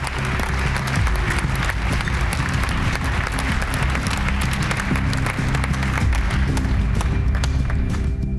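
An auditorium audience claps for ten competing teams at a startup pitch final's prize ceremony, producing dense, steady applause that fills the whole stretch at an even, loud level.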